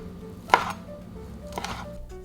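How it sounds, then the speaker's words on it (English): A knife slices chikuwa, a Japanese fish cake, into thin rounds on a board. Two crisp, separate cuts land about a second apart, and the background is quiet. "Slice the chikua into thin rounds."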